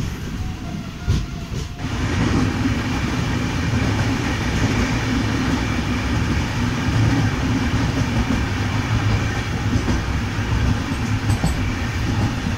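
Inside a sleeper coach of the MDU MAS AC Express as it pulls out of Kodai Road Junction station in the rain, a steady loud low rumble and clatter of the moving train runs throughout after a brief thump near the start.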